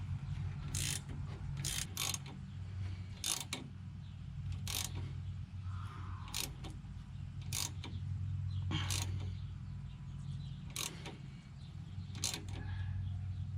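A ratchet wrench clicks in repeated bursts while tightening a car's front shock absorber nut, sharp close ticks over a steady low mechanical hum.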